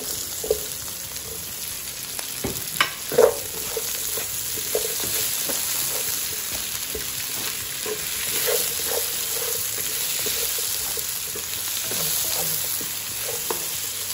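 Potato frying with onion and garlic in a pan, a steady close hiss of sizzling oil with scattered pops and light crackles throughout, and a couple of louder clicks from the pan near the start.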